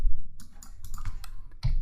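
Fingers tap out a quick burst of keystrokes on a computer keyboard, close and crisp, with irregular clicks spread across two seconds and no voices.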